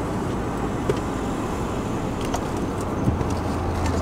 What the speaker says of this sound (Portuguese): Os carros passarem.